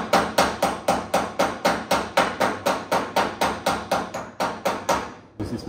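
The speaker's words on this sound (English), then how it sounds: "This is my left hand that I'm hammering with." Rapid, steady metallic hammer blows on the body sheet metal of a 1966 Triumph GT6, about three per second, loud and close, stopping abruptly near the end.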